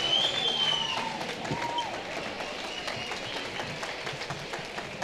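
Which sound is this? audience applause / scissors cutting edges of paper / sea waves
audience applause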